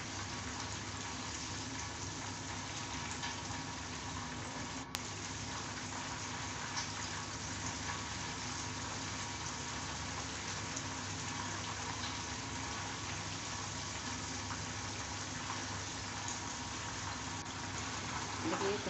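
KFC-style chicken pieces frying in hot oil over a medium flame, giving a steady, dense sizzle and crackle that runs evenly throughout with one brief sharp tick.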